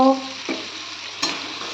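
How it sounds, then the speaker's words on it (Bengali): Chopped tomatoes hit a hot pan and are stirred, producing a steady sizzle with two brief spatula scrapes and clatters close by. "কুচি করে রাখা টমেটোগুলোকে দিয়ে দেব টমেটোগুলো দু মিনিট কষে নিয়ে"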